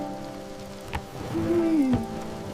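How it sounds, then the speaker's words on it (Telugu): Steady rainfall patters outside, with a faint rumble and a brief tonal whine passing through. "బయట వర్షం పడుతోంది"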